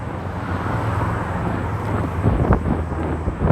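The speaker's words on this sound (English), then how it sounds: "it's a very noisy car." On a Philadelphia city street, a loud car rolls past with a broad, rising roar that swells toward the end, heard nearby over constant traffic and wind noise.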